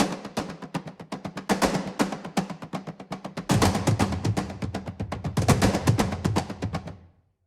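Layered epic tom drum ensemble from the Fracture Sounds TOM Factory library beats a driving rhythm, loud and close, its tone shifting under a low-pass and high-pass filter before the hits stop and ring out.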